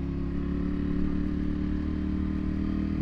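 A dual-sport motorcycle rides along a washboard dirt road in the desert mountains, its engine droning steadily up close with a constant rattling, shaking clatter from the rough surface.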